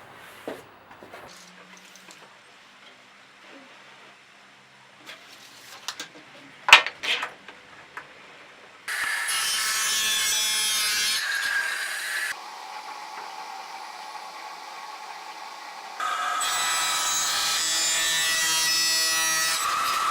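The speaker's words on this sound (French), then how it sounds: "maintenant, on va couper l'autre côté en mettant une butée sur la machine afin d'avoir exactement la même dimension." A machine saw set with a stop cuts wood for a table, with two loud sustained bursts of whining motor and cutting noise following quieter clicks and handling sounds.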